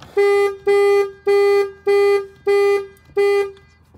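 A Peugeot 208 car horn honks six times in an even rhythm, each blast loud, close and about a third of a second long.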